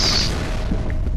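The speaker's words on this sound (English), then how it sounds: "That was a grenade" A grenade goes off in the shooter game F.E.A.R., one heavy booming blast with a rumbling low-end tail that fills the short moment.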